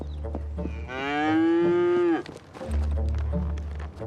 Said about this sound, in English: get some milk out of this cow